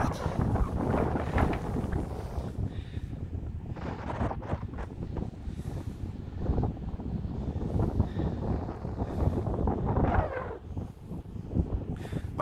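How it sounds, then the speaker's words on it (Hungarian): Heavy wind buffets the microphone in a constant, roaring rumble with gusty surges, and no voices come through. "fúj a szél, nem tudom, hogy halljátok, amit mondok"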